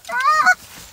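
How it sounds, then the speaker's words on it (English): A single loud, close goose honk from a small bunch of geese near a hunting blind, lasting about half a second, then fading into quiet. "look at this little bunch of geese right here."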